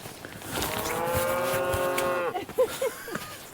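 Belted Galloway cattle lowing in a hillside field in the Lake District, one long drawn-out moo followed by shorter broken calls, moderately loud at some distance, with faint outdoor background.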